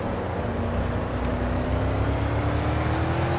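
A race car engine roaring in steady, sustained drone with a slowly rising pitch, heard on board during a short-track race at Bowman Gray, loud and close throughout.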